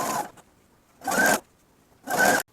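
A sewing machine stitches cotton quilt patches together in three short, even bursts about a second apart, each one close and fairly loud with quiet pauses between them.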